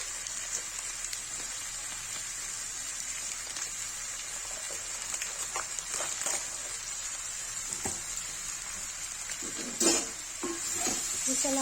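Aloo gobi with Everest sabzi masala being stirred in a pan, a quiet steady sizzle with soft scraping strokes and a few louder clatters, close and without talk.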